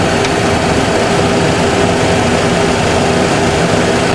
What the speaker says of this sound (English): Engine is pulling down.